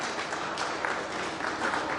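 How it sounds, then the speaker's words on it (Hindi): Audience at a college alumni gathering clapping steadily, a dense wash of applause with no voices over it. "व्यक्तिगत बहुत जोरदार तालियों से इस बात का"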